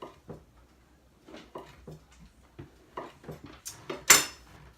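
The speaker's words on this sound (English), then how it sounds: "And you just want to slice it about 3/8 of an inch thick." A knife slices chilled sugar cookie dough into thick rounds on a board, giving a series of soft, close taps and cuts at an uneven pace, ending in a brighter clack.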